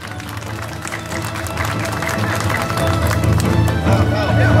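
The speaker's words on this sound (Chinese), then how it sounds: "掌声鼓励。" At a temple procession for Lord Lingan's birthday at Qingshan Temple in Wanhua, Taipei, a crowd claps in a dense, steady patter that swells slightly, while an announcer speaks loudly over it.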